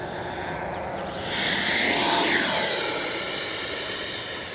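A FLYFANS L-39 radio-controlled model jet flies past on a morning run, its turbine whine swelling into a loud, rushing roar that peaks midway and then slowly eases, with no talking.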